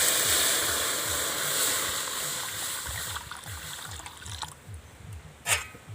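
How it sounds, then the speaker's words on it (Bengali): Water poured into a hot wok on a stove, a steady close rushing pour that gradually eases and thins out, ending with a brief splash. "এবার কড়ার মধ্যে আমি জল দিয়ে দিচ্ছি।"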